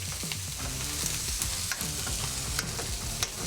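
Smash burger patties topped with American cheese cooking on a flat griddle, a quiet continuous sizzle broken by scattered clicks and scrapes from a spatula working the patties.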